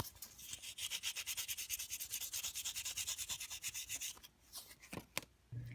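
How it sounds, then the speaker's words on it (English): Hand sanding of a 1/64-scale John Deere 7610 die-cast model casting, a quick, regular back-and-forth rasping of about twenty close strokes, followed by a few scattered scrapes and taps. "After some sanding and also using my wire brush on my Dremel with quite a significant amount of force, I got the casting sanded down"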